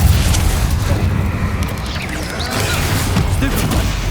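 Confringo blast spells burst in Hogwarts Legacy combat, with dense, booming explosions and crashing impacts rolling continuously over a loud rumbling low end, with no pause between hits.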